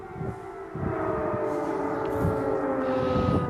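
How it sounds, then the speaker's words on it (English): Air raid sirens blare across a Ukrainian city, a loud sustained wailing drone holding steady tones with a low rumbling undertone throughout. "this is what many heard across the country just moments later, air raid sirens blaring in Ukrainian cities"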